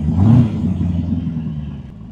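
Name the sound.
Boss Hoss motorcycle 5700 cc Corvette V8 engine running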